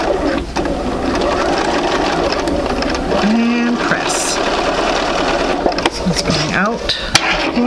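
A sewing machine runs fast and close as it stitches a quilt block, a continuous mechanical chatter with brief pauses and small clicks and clunks, and a voice talking briefly over it.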